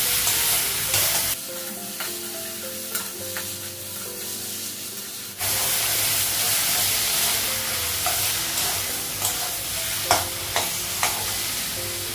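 Spices fry in a pan with cumin powder, ginger paste and tomato, giving a loud, continuous sizzle with scraping stirs. The sizzle drops briefly, then surges back.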